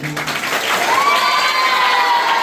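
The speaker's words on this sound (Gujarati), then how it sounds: "આપણે બધા તાળીઓથી વધાવીશું" A noisy crowd at a school admission festival in Jambusar, Bharuch, cheers and claps while children shout, a rising whistle-like tone cutting through the close, loud commotion.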